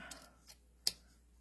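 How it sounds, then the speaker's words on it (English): Scissors snip strips of patterned paper: a couple of soft light cuts followed by one sharp, crisp snip, close and isolated in a quiet room. "I'm just going to cut"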